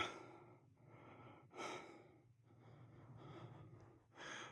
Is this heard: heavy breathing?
yes